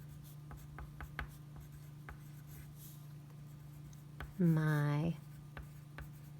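A pen or pencil writes a handwritten sentence, a faint steady scratching of short strokes and taps near the microphone, and a person speaks briefly partway through.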